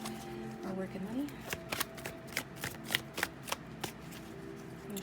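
Tarot cards being shuffled by hand, a run of quick riffling bursts and soft slaps growing denser, close and fairly quiet, with a voice speaking in the background.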